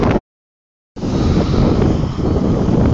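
Strong wind at the beach buffeting the microphone with a loud, roaring, gusty rumble that cuts out briefly, then returns and blows steadily.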